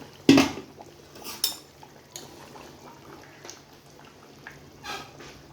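A metal lid clatters onto a pot of mango, potato and fish curry, one sharp clank followed by a few lighter knocks and faint clinks in a quiet kitchen.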